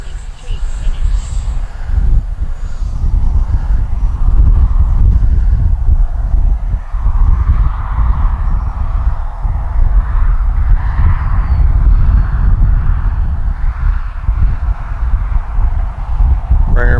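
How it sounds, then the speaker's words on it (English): Strong gusty wind buffets the microphone at a grass RC flying field, a heavy low rumble with a faint whine from an Arrows RC Marlin 64mm jet in the background. "Wow, it's windy today."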